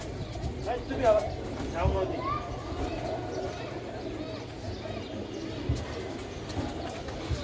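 Giribaz pigeons coo in a repeated, soft rolling rhythm close by. Someone talks over them in the foreground through most of the stretch.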